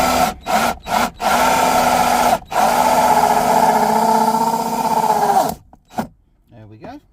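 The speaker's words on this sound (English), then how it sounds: "Seem to have a rather blunt drill bit there" An electric drill with a blunt bit whines loudly through plastic in several bursts, stopping and starting, then runs steadily for a few seconds before winding down; a voice follows briefly.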